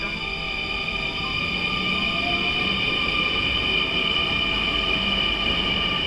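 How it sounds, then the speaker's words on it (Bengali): A train pulls into a station in the Netherlands, its rumble steady and loud with sustained high metallic squeals and tonal whine from the wheels and motors, no talking. "আসছে, ট্রেনে আমরা উঠবো"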